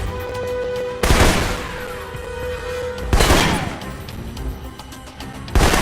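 Assault rifle shots in Alpha Protocol come as three sharp, loud cracks spaced about two seconds apart, each followed by a brief decay over low background game ambience.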